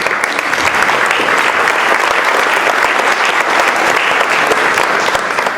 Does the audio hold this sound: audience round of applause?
yes